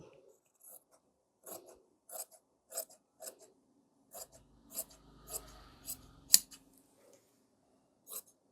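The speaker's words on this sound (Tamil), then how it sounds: "இப்போ பேக் வந்து கரெக்டாகிட்டு கட் பண்ணிடலாம்." Tailoring scissors cut blouse fabric in a string of crisp, close snips, spaced unevenly across the clip. A low rustling of handled cloth runs under the middle stretch.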